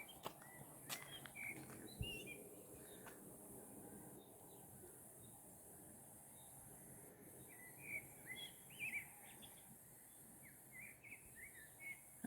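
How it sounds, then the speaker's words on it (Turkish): Birds chirp and sing faintly in scattered short phrases over a quiet outdoor background, some distance away. "Ay nasıl güzel ötüyor kuşlar."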